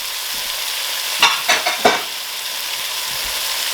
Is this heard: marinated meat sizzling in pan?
yes